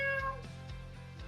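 A cat meows in an appliance store advert: a few quiet, drawn-out meows follow one another over soft background tones.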